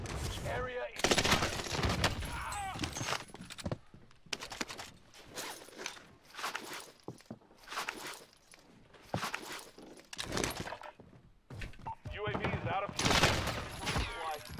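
Akimbo pistols in the Warzone video game firing in rapid bursts, loud and close, with footsteps and gear rattling between the volleys.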